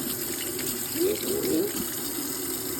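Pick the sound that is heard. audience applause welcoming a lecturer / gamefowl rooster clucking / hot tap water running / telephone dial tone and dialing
hot tap water running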